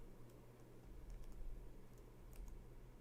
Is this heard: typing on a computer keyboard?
yes